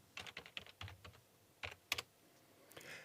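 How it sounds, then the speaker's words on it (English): Typing on a computer keyboard, a quick irregular string of light close clicks and taps, with a short pause midway and a faint soft shuffle at the end, quiet and alone. "And we just type in Cloud9."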